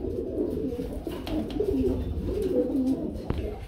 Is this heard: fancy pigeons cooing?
yes